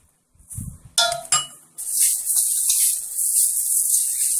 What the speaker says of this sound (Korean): 삶은 콩나물 100g과 오이 반 개를 고루 섞어줍니다